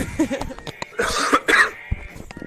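A man coughs a few times close to the microphone during a baseball broadcast, short harsh bursts with a throat-clearing quality and no talk around them.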